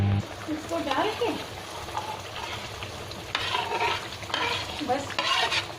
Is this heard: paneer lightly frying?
yes